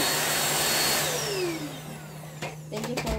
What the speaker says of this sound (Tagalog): Ang aking vacuum